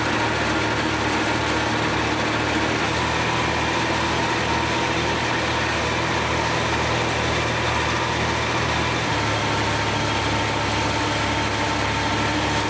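A 9-foot hay mower runs on a farm, its small engine droning loud and steady below full throttle, with a slight shift in tone near the end and no talk.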